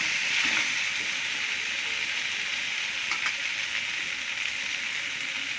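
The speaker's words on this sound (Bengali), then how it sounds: "আলুগুলো ভাজা হয়ে এসছে," Potatoes and white eggplant fry in a pan with a steady, close sizzling hiss that holds at an even level throughout, with no talking.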